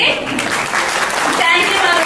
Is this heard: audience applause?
yes